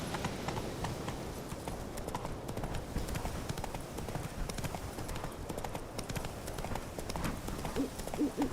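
Roach, the horse in The Witcher 3, gallops with steady, rapid clip-clopping hoofbeats that continue throughout at moderate loudness.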